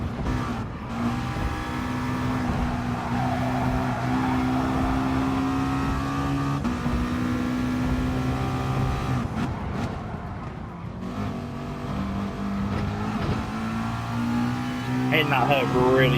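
Race car engines in Gran Turismo Sport roar at high revs through shifts and braking, a steady droning whine with brief dips, while a player talks over the game sound throughout.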